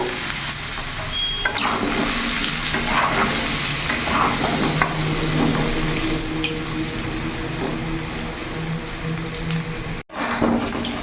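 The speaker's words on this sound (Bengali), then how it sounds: "দেখতে পাচ্ছ আলুটা আমি ভেজে নিয়েছি" Potatoes frying in a pan over a medium gas flame, a steady continuous sizzle with faint stirring and scraping throughout, no talk, briefly cut near the end.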